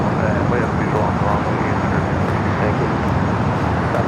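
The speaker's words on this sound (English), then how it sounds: "Next takeoff here on the south side, Alaska Airlines Flight 1352 heading to San Jose, Costa Rica" An Alaska Airlines Boeing 737-800 takes off at Los Angeles International Airport, its engines making a loud, continuous broadband roar that stays steady throughout without letting up.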